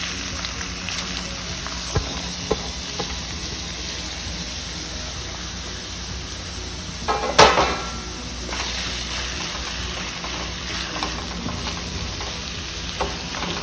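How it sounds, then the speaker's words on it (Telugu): Sliced onions fry in about four to five spoons of hot oil, giving a steady, close sizzle with a few clinks of a spoon and one louder scrape partway through. "ఉల్లిపాయలు బాగా వేగాలండి ఎర్రగా."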